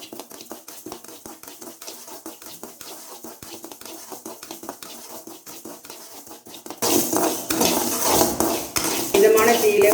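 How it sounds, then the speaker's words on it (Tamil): Red rice dry-roasted in a pan and stirred with a utensil: steady scraping and rattling strokes, quieter at first and then louder and denser, with grains skittering against the metal and no talk. "அதையும் வறுத்துக்கலாம்."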